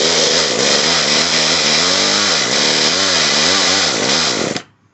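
Echo CS-305 chainsaw engine, just after a carburetor repair, revving loudly and unevenly with wavering bogs under throttle for about four and a half seconds before cutting out abruptly; no voices.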